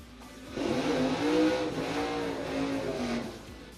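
A Chevrolet Nova drag car at a doorslammer drag racing event roars in after a short quiet start, its engine note climbing and rising loudly as it accelerates away for about three seconds, with no talking.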